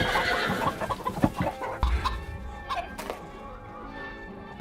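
Chickens cluck and stir inside a coop, a busy jumble of short calls with a few dull thunks, fairly close and steady, with no talk.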